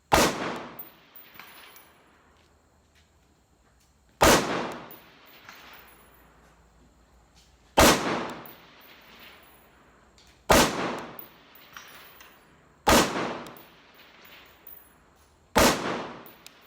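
Six sharp rifle shots from a Ruger AR-556 MPR at an outdoor range, each loud crack spaced a few seconds apart with a short ringing echo trailing off.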